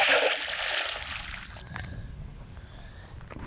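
A character in the video game Sky Base falls into a swimming pool, giving a loud, bright splash that quickly fades into quieter gurgling and sloshing water.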